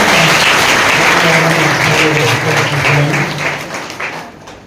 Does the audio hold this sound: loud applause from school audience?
yes